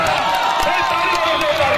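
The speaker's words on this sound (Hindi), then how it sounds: "बहुत बढ़िया भाई ताली मारो जोरदार" Audience at a Punjab wrestling (pehlwani) event clapping and cheering in a steady, dense wash of crowd noise with whoops, continuous and fairly loud throughout.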